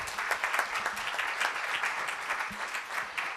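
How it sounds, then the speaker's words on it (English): Applause at a city council proclamation ceremony: dense, steady clapping from an indoor audience that fills the whole stretch, close and fairly loud, with no talk over it. "So let's give them another round of applause."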